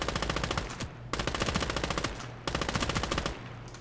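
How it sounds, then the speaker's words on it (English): An MG34 machine gun on a tank destroyer in a video game fires in three long, rapid bursts separated by short pauses, loud and steady with a mechanical rattle. "you can see the commander will actually come up and get on this MG34 drum"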